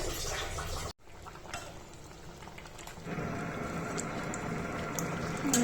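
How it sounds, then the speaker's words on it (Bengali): A curry of hilsa fish and taro roots simmers gently on low heat, a steady close bubbling hiss that briefly cuts out and then resumes, growing slightly fuller toward the end. "কারিটাও সিদ্ধ হয়ে গেছে, আর একটু সিদ্ধ হবে, এই কারণে কমিয়ে দিচ্ছি যেন আস্তে আস্তে সিদ্ধ হয়ে যায় ভালোভাবে"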